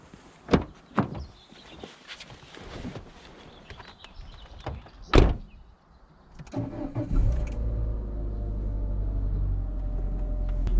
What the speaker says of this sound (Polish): Pod maską znajduje się czterocylindrowy silnik benzynowy i pracuje on cicho.